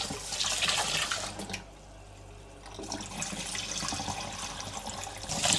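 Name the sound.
rice being rinsed under running water in a sink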